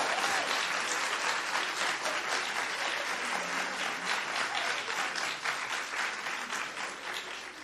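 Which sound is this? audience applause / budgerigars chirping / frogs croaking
audience applause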